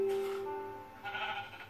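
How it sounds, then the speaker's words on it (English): Minecraft sheep gives a steady, wavering bleat at moderate volume, followed by a second, shorter bleat, with no talking over it. "Sheep? Oh, there you are."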